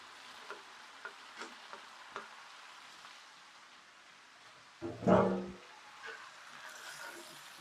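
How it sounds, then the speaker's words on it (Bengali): Spices and eggplant being sautéed in a pan: a steady soft frying hiss with a few faint taps, then a louder burst of stirring and sizzling midway before settling back. "এখন কষিয়ে নিচ্ছি মশলা আর সবজি"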